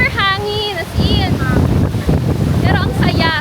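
Loud wind at a beach buffets the microphone in a continuous roar while people talk over it.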